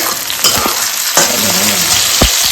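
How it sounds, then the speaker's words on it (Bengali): Moong dal sizzling in a pan in a home kitchen, with a steady loud frying hiss broken by a few sharp clinks and scrapes of stirring. "মুগ ডাল ভাজা হচ্ছে"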